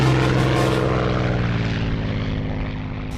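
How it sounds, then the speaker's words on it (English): Spitfire plane flying overhead near the White Cliffs of Dover, a loud droning propeller engine with a steady throbbing tone that slowly fades as it passes. "This incredible plane against the backdrop of the White Cliffs of Dover."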